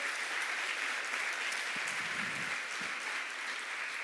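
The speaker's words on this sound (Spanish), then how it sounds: "Le damos un aplauso al Señor por eso" Congregation applause during a Spanish-language church service: steady, sustained clapping from a crowd that fills the whole stretch at an even level, with no voices rising above it.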